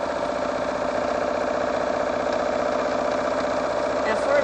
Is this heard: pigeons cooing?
no